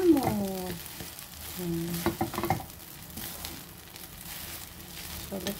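Home-cooked fried rice sizzles and hisses steadily in a pan while a utensil stirs and scrapes, with a few clinks and a faint voice underneath.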